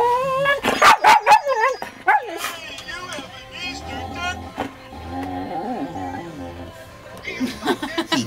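A dog barks several times in quick bursts, then yips and whines, with a person's voice talking in between.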